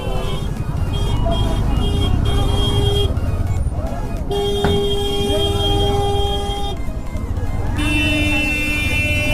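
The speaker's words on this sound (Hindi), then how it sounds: "भाई ये सारा नेपाली गाड़ी है" Busy road traffic of Nepali cars, with engines rumbling and car horns honking again and again, some held long and others short, over steady street noise and voices.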